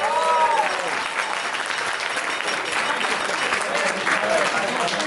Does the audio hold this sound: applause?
yes